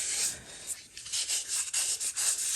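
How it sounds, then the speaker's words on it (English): A finger rubbing sticky adhesive gum off a surface while potting Nepenthes pitcher plants, giving a close, soft, continuous scuffing with slight uneven pulses and no voices. "if you use your finger like that, rubbing off,"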